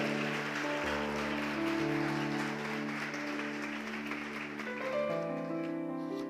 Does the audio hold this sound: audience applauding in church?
yes